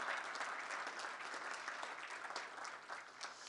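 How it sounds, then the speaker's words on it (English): A live audience applauds the state governors at a White House coronavirus vaccine summit, steady dense clapping lasting the whole few seconds at moderate distance, with no voices over it. "how about another round of applause for the governors that you heard from today?"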